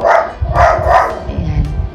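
A pet dog named Dino barks loudly and close in a quick series of three or four sharp yaps, with no talk over it.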